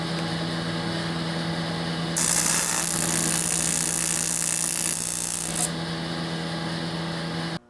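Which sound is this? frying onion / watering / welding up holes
welding up holes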